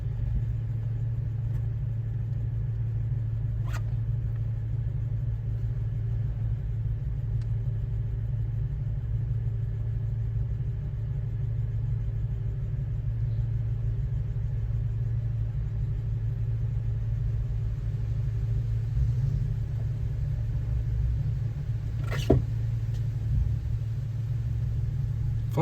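A Jeep crawls uphill on a narrow mountain trail in four-low, second gear, with no throttle; a steady low engine rumble drones throughout, with one brief knock near the end.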